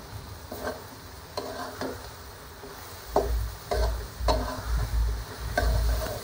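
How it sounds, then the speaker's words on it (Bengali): Shrimp being stirred and sautéed with spices and turmeric in a pan for a pumpkin and shrimp dish, with repeated scraping strokes over a soft, low sizzle and no talking. "ভালোভাবে মশলাগুলোর সাথে চিংড়ি মাছগুলোকে কষিয়ে নিচ্ছি"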